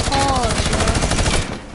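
Rapid burst of gunfire in a shooting video game, a loud, continuous stream of automatic shots that cuts off after about a second and a half.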